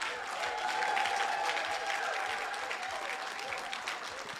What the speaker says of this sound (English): you keep clapping until she gets here